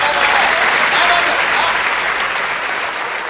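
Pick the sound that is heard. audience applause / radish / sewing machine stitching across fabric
audience applause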